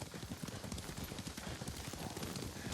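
Steady clip-clop of horse hooves trotting in Ghost of Tsushima, a quick, even rhythm, close and continuous throughout, with a faint background hum.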